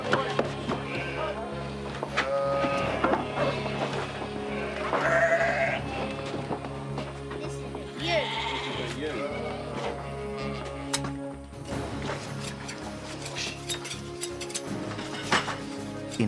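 Sheep bleating repeatedly amid a busy, noisy background with clattering and other shearing-shed activity, the calls rising and falling throughout.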